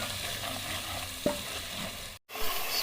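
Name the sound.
spices being fried with salt in a pot for aloo gosht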